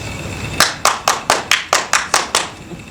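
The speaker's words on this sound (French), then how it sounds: "mais applaudissez quand même." About nine distinct, evenly spaced hand claps from a theatre audience in Ouagadougou, loud and near, forming a short rhythmic burst with no talking.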